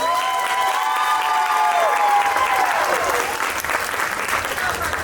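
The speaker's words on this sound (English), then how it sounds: "Give our contestants one more round of applause." Sustained applause for contestants at a pageant, steady and fairly loud, with a few voices and whoops rising above the clapping.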